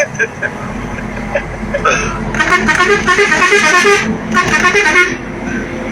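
A loud truck horn blasts repeatedly in long bursts close by, with engine rumble and voices underneath.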